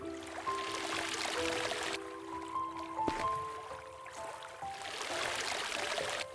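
Water drawn by hand from a stream, a steady wash of trickling, pouring sound with faint dripping, at moderate level and with no voices.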